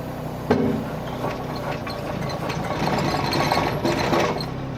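Excavator travelling forward while tilted, its bucket dragging along the ground, producing a steady mechanical clatter and grinding rattle with a thump near the start, close and continuous without talk.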